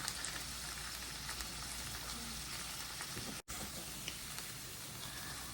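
Shrimp and fish sear in a hot pan for Cajun pasta, a steady, even sizzle and hiss that carries on without pause, faint and close, with no voices.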